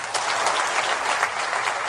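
An audience at a Labour party speech breaks into sustained applause, a loud, even sheet of many hands clapping that fills the hall without a pause.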